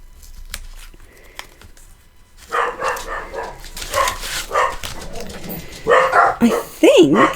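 Several dogs barking indoors, sharp bursts of yapping that build and overlap in the second half, with a person talking over them.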